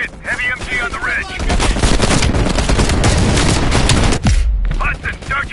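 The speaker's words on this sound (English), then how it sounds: "Heavy MG on the ridge!" Sustained heavy machine gun fire rattles in a dense, loud stream for several seconds in Call of Duty Black Ops Cold War, mixed with bursts and booms, with voices shouting at the start and end.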